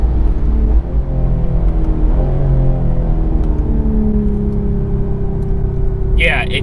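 A 2020 Toyota Supra's engine drones from inside the cabin as it accelerates, its pitch sweeping upward through gear changes under a steady rumble, with a voice talking over it.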